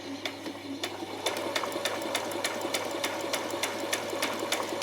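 A sewing machine stitches fabric for a peasant skirt at a long stitch length, its needle tapping in a quick even rhythm over a constant motor hum, close by.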